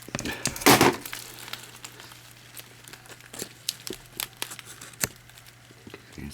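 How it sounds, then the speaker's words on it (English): Tape is peeled and torn away from the wrapping of an air-layered variegated Philodendron billietiae, with one loud crinkling rip followed by a run of sharp, scattered crackles and small snaps, close by and heard alone. "Need to remove all the tape around it."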